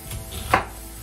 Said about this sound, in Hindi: प्याज तो भाई ने छोटा छोटा कर दिया